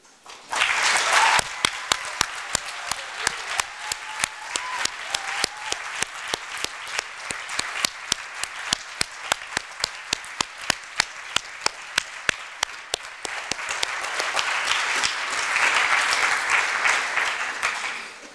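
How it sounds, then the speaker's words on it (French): A conference hall audience at a Model UN closing ceremony gives a long ovation to the translators and interpreters, a sustained roar of many hands with sharp individual claps standing out close by. "à toutes les personnes ici présentes de leur faire un tonnerre d'applaudissements"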